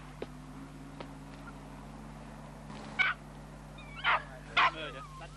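A dog tied up outdoors during a terrier digging outing with a spade, giving a few short, sharp barks and whimpers in separate bursts over a low steady hum, fairly close and moderately loud.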